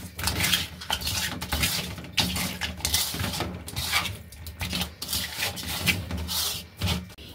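Catla fish pieces are hand-mixed with turmeric powder and salt in a bowl, making close, irregular wet rubbing and squishing sounds with occasional light knocks against the dish.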